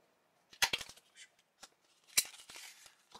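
A small package holding a smartphone-mounted mini non-contact thermometer is opened by hand, with a quiet, close sequence of sharp clicks, snaps and rustles in two short bursts separated by near-silence.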